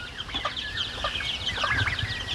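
Domestic turkeys and other poultry call on a farm with a busy mix of clucks and short squawks, close by and continuous.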